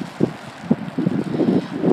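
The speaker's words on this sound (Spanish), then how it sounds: "Y está bien ventoso aquí." Gusty wind buffets the microphone outdoors in New York on a foggy day, low rumbling bursts that rise and fall in quick irregular pulses, close and fairly loud.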